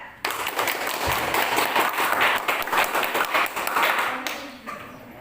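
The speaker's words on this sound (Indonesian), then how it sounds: "Mari kita kasih aplaus untuk kelompok 1 sebagai kelompok distributor." A classroom breaks into applause for group 1, a quick burst of many hands clapping close and fairly loud, tapering off after a few seconds.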